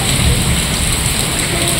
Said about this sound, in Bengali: এখন এত মুষলধারে বৃষ্টি পড়তে লেগেছে